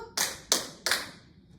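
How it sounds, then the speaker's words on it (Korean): A classroom gives three sharp, evenly spaced claps in rhythm to call for attention, each clap crisp and close with short decays between them. "집중의 박수."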